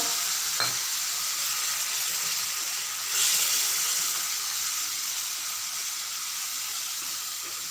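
Water poured into hot masala in a kadai while cooking chavli bhaji, giving a steady soft sizzle and hiss with a brief sharper burst partway through.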